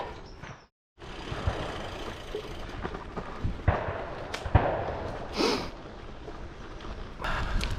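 A few faint gunshots crack in the distance outdoors, heard as scattered brief reports through steady wind noise.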